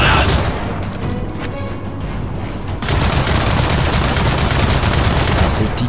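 In the video game Gears of War 4, a thrown grenade detonates amid heavy gunfire, a loud sustained barrage of shots and blasts that swells and grows denser partway through.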